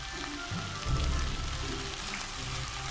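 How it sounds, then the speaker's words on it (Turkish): Peas being stir-fried a final time in a pan with meatballs and potatoes, a steady close sizzle with soft crackling and light stirring scrapes throughout, no voices. "Ve şimdi son kez kavrulacaklar."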